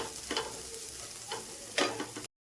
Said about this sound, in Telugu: ఒక్కసారి ఇలా కలిపేసుకుందాం.